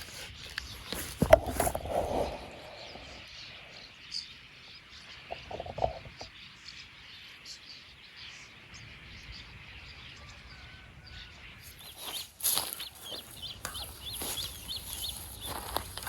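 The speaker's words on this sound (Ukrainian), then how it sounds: "Ух ти, скільки пташок." Birds chirping and calling across a village countryside, including chicken-like clucks, scattered faint calls over a quiet outdoor background, with a busier burst of sharp calls near the end.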